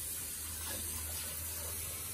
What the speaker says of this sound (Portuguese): Eu vou colocar um pouquinho de água fria.